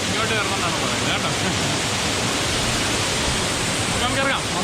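Manalar waterfall roars as a dense, steady rush of falling water close by, with faint voices briefly audible under it.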